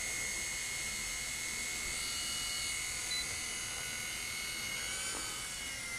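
An Eachine E-130 RC helicopter flies on its maiden flight outdoors in a light breeze, making a steady high-pitched electric whine that holds constant throughout, fairly faint and slightly distant.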